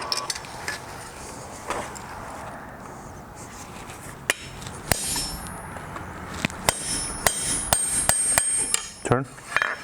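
Sharp metallic hammer strikes on a metal punch ring out irregularly while blacksmithing a toaster, some ringing bright and bell-like, with scattered lighter taps between them in a quiet room.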